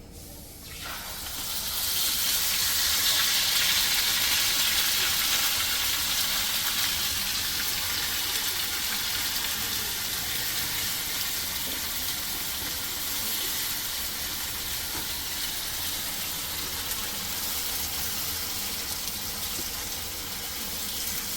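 Onion-tomato paste added to hot oil while making a yogurt soybean masala, bursting into a loud, steady hiss of sizzling that rises after the first two seconds and holds evenly, close and unbroken, for the rest of the stretch.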